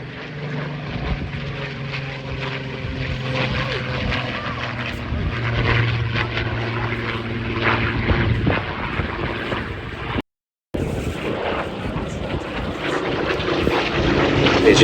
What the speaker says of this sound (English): First version of the Spitfire with a Griffon engine.